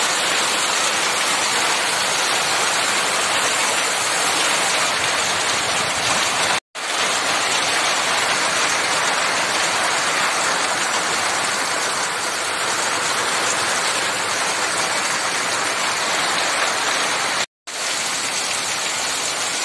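Torrential late-monsoon rain lashed by strong wind over farm country, a loud, unbroken hissing roar that holds steady throughout, cut off by two very brief silent gaps.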